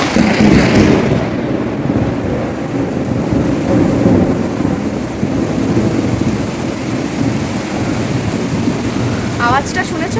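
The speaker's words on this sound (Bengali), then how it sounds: "বাবা কি জোর বিদ্যুৎ চমকাচ্ছে" Heavy rain pours steadily while thunder rolls in a loud, deep rumble that dominates the opening and then fades under the continuous downpour, with some wind buffeting the microphone.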